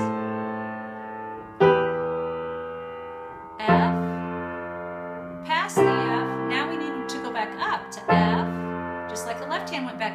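Piano plays an easy arrangement of Canon in C, with sustained chords struck in a steady pattern every two seconds or so, bass and upper notes ringing clearly and close.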